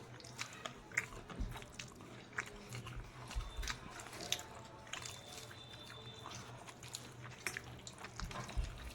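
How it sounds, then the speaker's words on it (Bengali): Someone eats fried bhaji with squeezed lemon, giving soft, irregular bites and moist chewing close by, with small wet squishes over a quiet room. "বাজিটা খেতে আরও ভালো লাগছে লেবু দিয়ে চিপে খেতে ভালো লাগছে"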